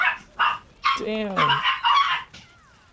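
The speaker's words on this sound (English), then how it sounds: "What the dog doing?" Dog barks in the Lost Ark game during a Vykas raid, a few sharp barks and a yelp mixed with a man's exclamation and game sounds.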